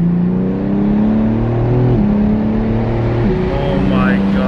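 2021 BMW G82 M4 accelerating hard, heard from inside: a loud, continuous engine drone climbing in pitch, broken by quick dips at each of several upshifts.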